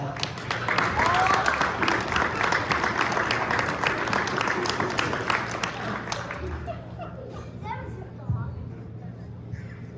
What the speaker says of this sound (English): let's have a round of applause for old Mother Hubbard's dog